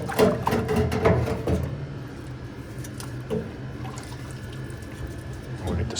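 Running water rinses off a part during an HVAC condensate-drain repair, a steady splashing flow with occasional drips and clanks, strongest at the start and then softer.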